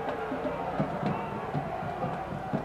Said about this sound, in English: let's just say, some disagreement from the crowd